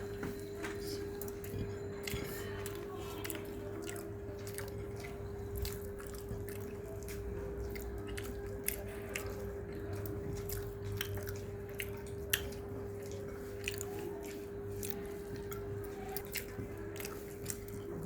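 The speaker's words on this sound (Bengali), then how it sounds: "শুরুতেই খাচ্ছি আমি এখন বেগুনের চাক ভাজি" Fried eggplant slices are chewed close to the mic, with soft, moist bites and squishy mastication repeating steadily over a faint constant hum.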